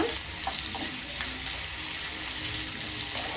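Close, constant hiss of cumin seeds frying in hot oil for tempering, a broad crackling sizzle with a few faint clinks near the start.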